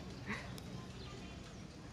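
Horse hooves clip-clop faintly as a horse gallops in the Free Fire video game, a quiet, steady hoofbeat rhythm under low game ambience.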